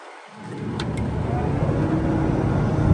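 2005 Kenworth W900 mixer truck engine with the throttle brought up, a steady loud low rumble rising after a quiet start and holding at a raised idle.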